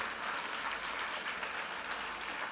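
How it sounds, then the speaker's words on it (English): Guests at an appreciation dinner for volunteer ambassadors clapping and cheering from a distance, a soft, even wash of applause lasting a couple of seconds. "I hear a cheer there"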